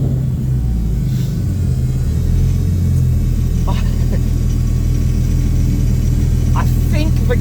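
A car engine with a new turbo bottom end, on its first start and headed for the dyno, giving a loud, steady low rumble that swells slightly as it revs, with a few faint clicks and knocks over the top.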